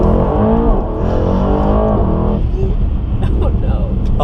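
Mercedes-AMG E63S launching hard and accelerating, a loud roaring engine climbing through revs heard from inside the cabin, with people talking over it.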